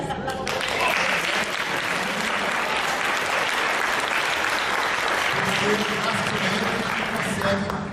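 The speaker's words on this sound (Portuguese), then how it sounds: "bater palmas do Eric" Audience applause for Eric at a lecture on Ayurveda in São Paulo, a dense sustained clapping that fills the whole stretch at steady loudness, with a voice talking over it near the end.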